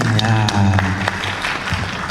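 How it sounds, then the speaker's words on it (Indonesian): Brief audience applause at a press conference announcing a stadium concert in Solo, clapping under a voice that continues talking throughout. "Tepuk tangan dong dari PLN dong."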